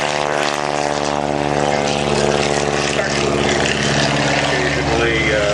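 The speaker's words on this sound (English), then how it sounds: "is a very short takeoff and land airplane" Short takeoff and landing propeller airplane at the Biggin Hill Airshow, a loud, close engine drone with a steady buzzing tone that shifts slightly in pitch as it passes.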